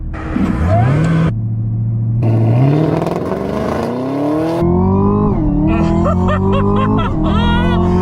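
A Chevrolet Camaro ZL1 launches hard with launch control, its engine roaring loud and close as revs climb in long rising sweeps, broken by gear shifts, with a voice briefly audible.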